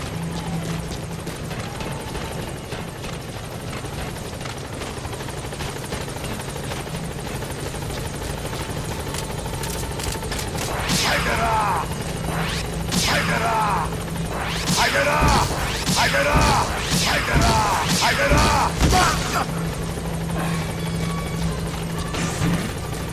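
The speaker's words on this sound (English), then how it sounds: "Support helicopter has arrived." A support helicopter arrives in the video game Metal Gear Solid V, its steady rotor drone running throughout with a series of loud, sharp impacts and whooshes piling up in the second half.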